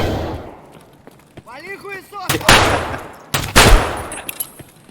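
Gunfire in the Escape from Tarkov shooter game, two loud, sharp bursts of shots after a voice speaks briefly, with smaller cracks trailing off.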